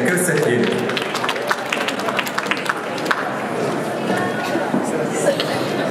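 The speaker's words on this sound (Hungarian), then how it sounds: "egy tapsot kérnék. Hatalmas tapsot neki!" Audience applause for a dance group on stage at the Miss Hungary 2018 beauty pageant, a steady wash of clapping and crowd chatter throughout, loud and sustained with no pauses.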